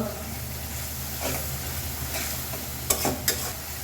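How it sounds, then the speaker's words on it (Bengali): Spice paste for a dried-fish (shutki) dish is stirred and fried in a pan. Soft continuous sizzling runs under gentle scraping, with a couple of sharp utensil clicks near the end. "এই যে মশলাটা খুব ভালোভাবে কষিয়ে নিয়েছি দুই তিন মিনিটের মতো"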